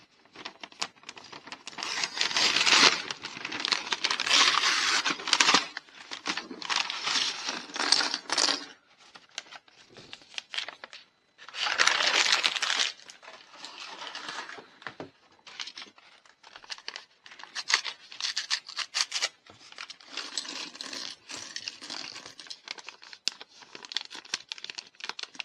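A Lego Emergency Ambulance set's packaging is opened up close, giving loud bursts of plastic crinkling and rattling pieces with short pauses between them.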